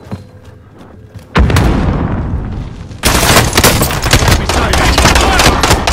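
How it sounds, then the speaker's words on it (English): Frag grenade blast in the Call of Duty Warzone video game, a sudden loud boom that rolls into a dense burst of crackling gunfire and explosive debris, with sustained heavy combat noise continuing afterward. "Frag grenade."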